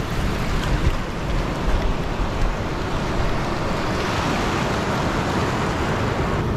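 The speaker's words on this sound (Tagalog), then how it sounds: "Grabe, tataas ng alon." Continuous rush of high sea waves and surf on the Pangasinan coast with wind buffeting the microphone, a dense, steady roar throughout.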